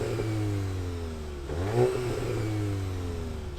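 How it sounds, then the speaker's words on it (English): A new VW Golf GTI engine idles, then swells into one quick rev that climbs and falls back, up close and with no voices. "Dan, give the GTI a little rev, mate"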